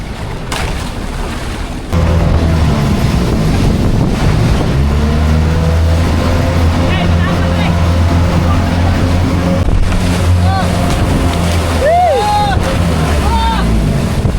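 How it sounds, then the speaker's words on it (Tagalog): Strong sea waves surging around a motorboat, with a loud engine drone, rushing water and heavy wind buffeting the microphone, while voices shout over the noise. "Grabe ng alon"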